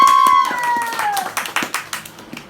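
A handful of people clap for a girl at a stage magic show, producing sharp, uneven claps that thin out and fade over a couple of seconds, with a sustained tone underneath.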